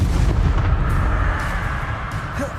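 A fiery Incendio spell cast in the Hogwarts Legacy video game, a dense rumbling roar of flame and blast noise that stays loud and sustained across the whole moment, with no voices.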